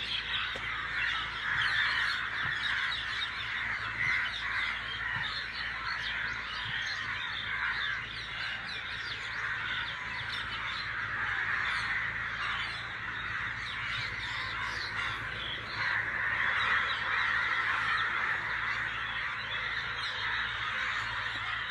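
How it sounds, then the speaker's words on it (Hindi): Birds calling in a village, with crows cawing repeatedly amid a dense, steady chorus of other birdsong that continues throughout at moderate distance. "देखिएगा पक्षियों की आवाज़ आ रही होगी"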